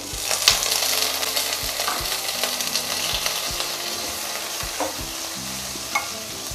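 Cauliflower and bay leaves frying in butter, a continuous close sizzle broken by repeated scraping stirs of a utensil against the pan, with no voices.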